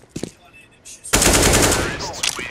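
Automatic gunfire in CS:GO, a loud, fast burst of shots that starts abruptly after a few quieter sounds and keeps going steadily to the end.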